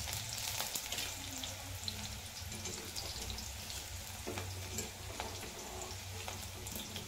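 Steady crackling sizzle of garlic frying in hot oil, close and fairly loud, with a few stirring scrapes and no voices.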